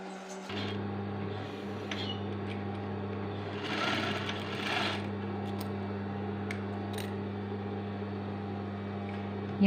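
Sewing machine stitching yellow fabric onto a square cloth for a wheat-pattern patchwork quilt, running with a steady close-up mechanical hum and rapid needle rhythm for about nine seconds, alone.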